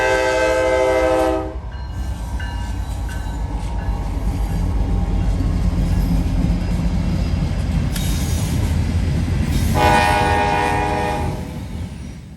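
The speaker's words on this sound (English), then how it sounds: "The leader is CSX 911, honoring first responders unit. It's using an AC-44 horn" A CSX freight train led by locomotive 911 sounds its AC-44 horn: a loud chord blast at the start, then the heavy rumble of passing rail cars, and a second long horn blast near the end.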